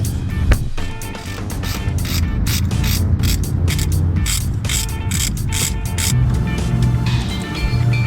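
A ratchet tightening a Torx bolt on a Corrado valve body, giving a close, loud run of quick metallic clicks in bursts with brief pauses, over a busy mechanical background and no talking.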